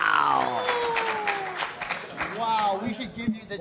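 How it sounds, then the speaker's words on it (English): Audience applause at a Microsoft Ignite 2015 Exchange Server session: steady clapping from a crowd running throughout, with a voice talking over it. "I want to know why they're applauding for 60 meg mailboxes."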